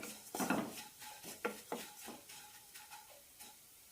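Grated coconut roasts dry in a pan while a spatula stirs and scrapes it in soft, irregular strokes, faint and close, with no talking.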